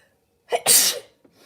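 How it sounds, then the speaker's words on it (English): A single sharp human sneeze, a quick intake followed by a loud close burst that cuts off abruptly, then near silence. "I'm going to sneeze."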